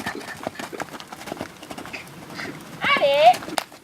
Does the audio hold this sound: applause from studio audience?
no